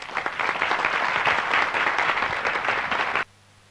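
Sustained applause from a conference audience after a panel session, a full dense wash of clapping that holds steady for about three seconds and then cuts off abruptly into near silence.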